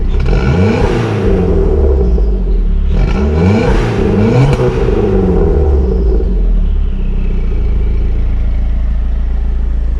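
A 2.4 turbo Chrysler PT Cruiser with a catless downpipe revving hard in repeated bursts with a raw, rumbling exhaust, then settling back to a deep, steady idle.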